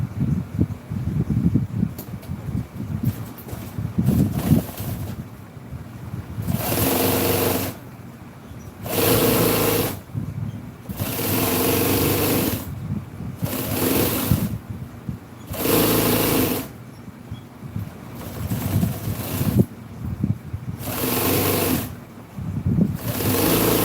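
A sewing machine stitches listing onto a 1966 Chevy truck seat cover in repeated bursts of rapid, close chattering, about nine runs separated by short pauses filled with quieter handling noise.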